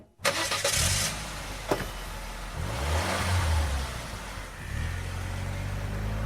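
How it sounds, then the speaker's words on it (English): A car engine starts with a sharp crank, then idles and revs as the car pulls away, close and steady with no talk. "So let's hop in the car."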